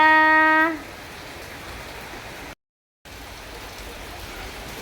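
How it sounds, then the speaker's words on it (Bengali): Rain falling steadily outside as an even, continuous hiss. A brief electronic tone sounds at the start, and a moment of dead silence interrupts the rain partway through. "বাইরে বৃষ্টি যাওয়ার উপায় নেই বাইরে"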